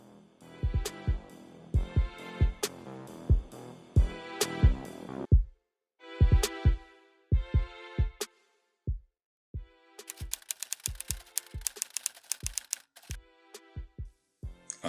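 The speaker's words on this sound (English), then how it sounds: "let's decorate it by adding a typing sound effect" Rapid, uneven clacking of typewriter keys, pausing briefly between short bursts and ending in a faster run of light clicks.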